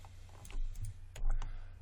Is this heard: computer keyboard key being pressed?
yes